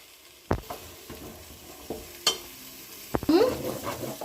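Chicken curry with garam masala frying in a pan, with a soft sizzle and a few sharp clinks and scrapes from stirring, close up and without talk.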